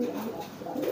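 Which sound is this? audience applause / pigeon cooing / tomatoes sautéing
pigeon cooing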